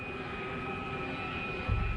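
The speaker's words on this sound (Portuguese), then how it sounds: "pois o avião continuava descendo" A damaged jet airliner descends with a steady, muffled engine drone and a faint high whine, low and constant throughout, with a brief thump near the end.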